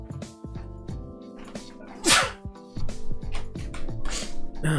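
A single sharp, sudden sneeze bursts out midway through, over a background of steady music.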